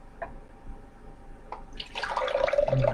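Orange multifruit juice pours from a dispenser tap into a glass, with a couple of faint drips before a close, rising splash of liquid filling the glass in the last second.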